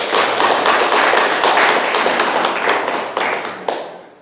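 A church congregation claps warmly during a Korean worship service, a loud, dense burst of hands that thins toward the end with a few last distinct claps.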